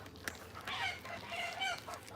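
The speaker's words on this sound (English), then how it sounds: "They're over the chickens over there fighting." Chickens squabble near a beehive, with agitated clucks and squawks rising and falling over a faint outdoor background, somewhat distant.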